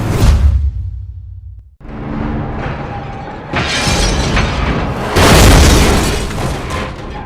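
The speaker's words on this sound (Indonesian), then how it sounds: "mobil Jack tiba-tiba meledak" A race car explodes after a crash in a film scene. A deep boom fades to near silence, then rushing, crackling debris and a second powerful blast build up loudly.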